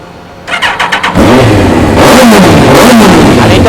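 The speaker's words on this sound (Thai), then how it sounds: "ขออนุญาตสตาร์ทเครื่องยนต์เลย" A Suzuki GSX-R1000 sport motorcycle engine with a cold exhaust cranks with a few rapid starter pulses, catches, then revs loudly and repeatedly up close with no talking.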